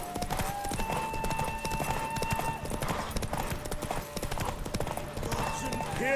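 Roach, Geralt's horse in The Witcher 3, gallops in a derby race: rapid, steady clip-clop hoofbeats run throughout, loud and close, over sustained musical tones and faint background voices.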